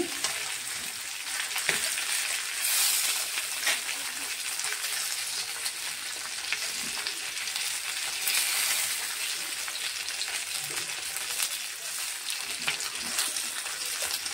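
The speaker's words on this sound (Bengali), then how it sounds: "সর্ষের তেলটা দিয়ে দিলাম, মাছটা ভেজে নেব।" Tilapia fish frying in mustard oil in a pan gives a continuous, even crackling sizzle that holds steady throughout at moderate loudness.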